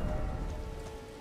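Rain falls in the video game Elden Ring, a steady hiss of drops with a low rumble and a faint humming tone underneath, brief and unbroken.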